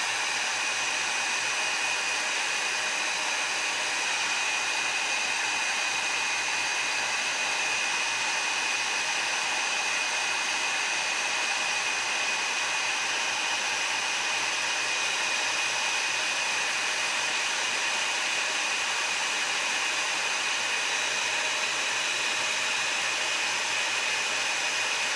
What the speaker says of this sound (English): I'm going to take my heat tool and heat these up.